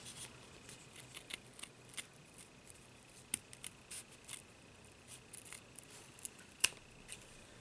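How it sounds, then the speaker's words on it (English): Small scissors snip through felt around a rhinestone on a handmade angel ornament, making faint, close, irregular clicks and crisp snips in a quiet room. "I'm just going to cut here around the rhinestone"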